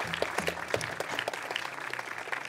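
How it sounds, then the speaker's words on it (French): An audience applauds at a French speedrunning event after a Cuphead race finishes, producing steady, dense clapping from a crowd that holds at an even level throughout. "on va pouvoir applaudir Melwest qui va du coup clôturer cette première race sur Cuphead"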